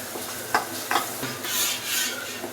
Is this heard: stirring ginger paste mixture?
yes